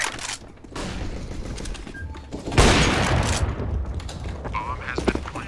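A flashbang grenade thrown and going off in Counter-Strike: Global Offensive, a sharp bang near the middle followed by ringing noise, set among other gunfire and game sounds.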